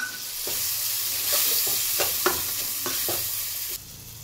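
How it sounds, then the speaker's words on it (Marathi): Spices fry in hot oil in a pan with a bright sizzle, broken by a run of stirring scrapes and clicks, close and with no voices. "ह्याला पण आपल्याला 2-3 मिनटं असं फ्राय करून घ्यायचं आहे चांगलं"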